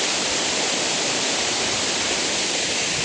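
Mayton Falls waterfall roars in a constant, full, hissing rush of falling water, steady and close with no voices.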